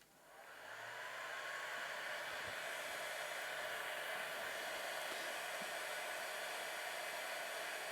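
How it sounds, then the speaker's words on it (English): A hair dryer switches on and quickly settles into a loud, steady whooshing roar that continues unbroken to the end. "Now I'm going to turn on my noisy hairdryer."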